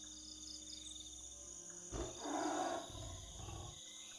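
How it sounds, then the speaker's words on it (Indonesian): A tiger lets out a short, low roar in a forest, rising briefly over a steady background of insects and crickets. "Dia mengaum Mas Epi."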